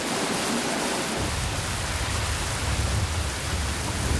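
Torrential hurricane rain pours down as a dense, steady roar of loud broadband hiss, with no voices.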